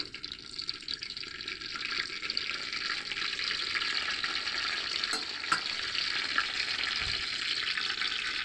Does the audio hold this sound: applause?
no